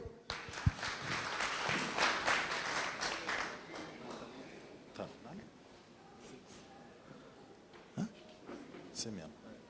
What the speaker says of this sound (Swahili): Pigia Neema makofi.